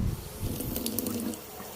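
Water pours steadily into a cooking pot of pork and broccoli at home, a continuous close splashing fill that runs for under two seconds with no talking.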